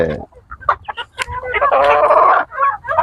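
Chickens cluck and call close by in a backyard breeding flock being fed, with several overlapping bursts and a longer warbling run in the middle, loud and near.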